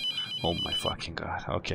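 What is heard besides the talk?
telephone ringing in video game The Mortuary Assistant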